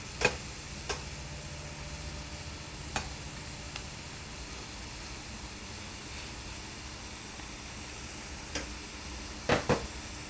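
Onions and fresh garlic sizzle faintly in a pan as they are stirred, a soft, steady hiss broken by a few light clicks and taps from the utensil.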